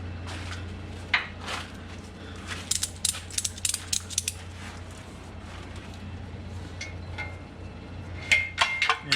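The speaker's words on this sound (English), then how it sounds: "Let me grab that ratchet strap again." A ratchet strap being cranked while an engine is installed into a Suburban, heard as scattered bursts of sharp ratcheting clicks near the microphone over a steady low hum, clustered in the middle and again at the end.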